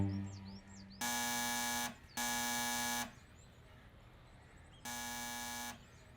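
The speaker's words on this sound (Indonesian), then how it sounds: "ia membunyikan klakson." A school van's horn honks three times: two long blasts close together, a pause, then a third long blast, loud and near with no talk.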